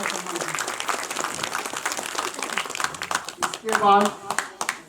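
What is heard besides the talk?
audience applause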